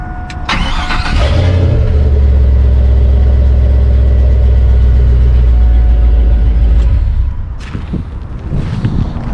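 A 1999 bagged truck's engine cranks to life, then idles steadily with a loud, deep rumble close by, freshly fitted with a new muffler. It runs for several seconds before the revs drop away near the end.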